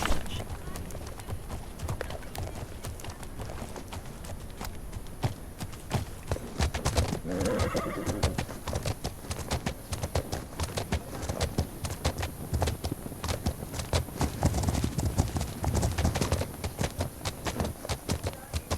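Horse hooves clip-clop steadily at a riding pace in the game The Legend of Khiimori, with an occasional whinny, while a person talks over the gameplay throughout.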